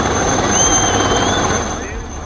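An army helicopter flies a flood rescue in Rajouri, Jammu and Kashmir, with a loud, dense rotor and engine roar that holds steady, then eases slightly toward the end.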